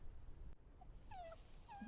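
Rosie, a dog in the video game The Walking Dead: The Final Season, lets out a few soft, high whimpers, quiet and a little distant over low background hum.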